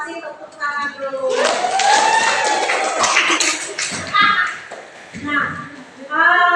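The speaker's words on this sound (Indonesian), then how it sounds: "untuk kelompok satu dan kelompok tiga kita kasih tepuk tangan dulu" A classroom of students clapping for groups one and three after a history lesson, a burst of close applause lasting a few seconds, framed by a teacher's voice before and after.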